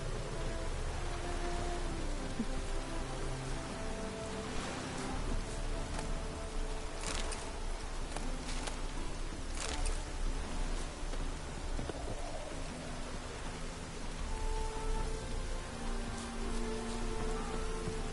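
Steady rain patters continuously on surfaces in The Witcher 3, a dense even hiss of drops with no voices.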